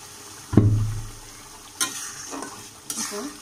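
Bitter gourd and fish belly pieces sautéing in mustard oil, with a loud scrape and clatter of stirring at first, then softer sizzling and a few more stirring knocks.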